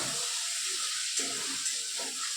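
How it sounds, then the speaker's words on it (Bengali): Sliced radish frying in a pan at home, a steady close sizzle and hiss of hot oil with faint stirring scrapes underneath, continuous for a couple of seconds with no talking. "এইদিকে মূলো ভাজা করছি আর চিকেনটা প্রায় কষানো হয়েই গেছে"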